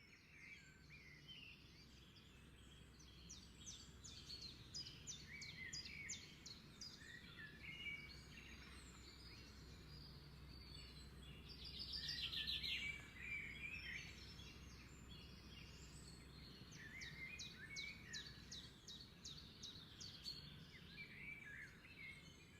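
Sparrows and other small birds chirp and twitter in a hot outdoor setting among trees, a busy, fairly distant chorus of rapid calls that swells briefly in the middle.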